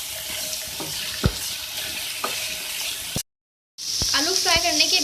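Potatoes and carrots fry in a pan with a close, steady sizzle and a few sharp clatters of stirring, broken by a brief silence, followed by a brighter hiss with what sounds like running water or faint talk.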